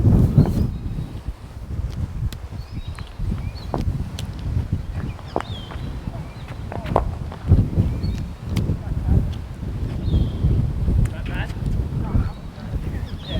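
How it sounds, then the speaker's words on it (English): Wind gusts buffet the microphone outdoors during leg-spin cricket practice, a steady low rumble with rustling throughout, while people talk over it and occasional thuds and clicks cut through. "So you're getting quite a bit of drift with this wind"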